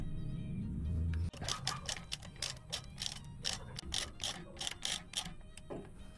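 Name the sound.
14mm socket wrench ratcheting while fitting motorcycle front shock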